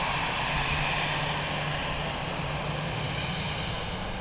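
A fixed-wing airliner's engines roar steadily and close at Dublin Airport as it lands and turns off the runway, a continuous loud drone with a low hum running through it.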